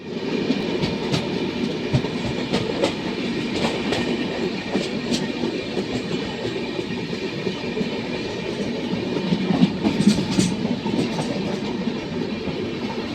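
A long-distance train in India runs along the rails, a steady rumble with faint rhythmic clatter and occasional squeaks heard from on board, continuous and moderately loud.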